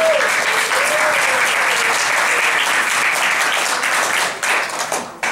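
An audience at a community program event gives a round of applause, a full, continuous burst of clapping that stays strong for several seconds before tapering off near the end.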